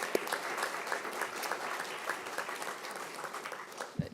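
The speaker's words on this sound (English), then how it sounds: "One more round of applause for our new hires." A modest round of applause for newly sworn-in school police officers at a Palm Beach County ceremony, steady clapping from a moderate crowd, heard at some distance and without speech.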